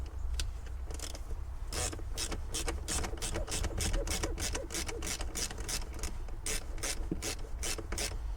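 Rapid ratchet clicks from tightening the battery clamp on a VW Mk5 R32 Golf, a steady run of close, loud rasping strokes with no talking.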